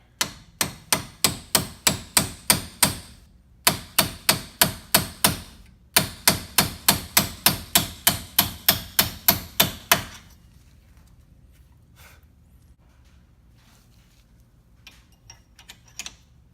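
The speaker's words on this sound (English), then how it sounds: "Take a little punch and a hammer." Hammer strikes a small metal punch in quick, even runs of sharp metallic taps, three bursts over about ten seconds, loud and close, then a quiet stretch with faint handling noises.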